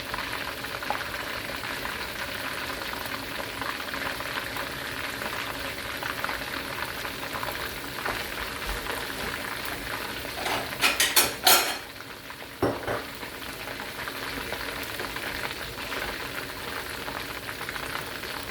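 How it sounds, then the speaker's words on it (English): Beef pieces for orange beef bubble and sizzle steadily in hot oil in a pan, with a brief burst of clattering pan or utensil noise partway through and no speech. "with tender cuts of beef, you may not have to fry it as long because it'll be tender"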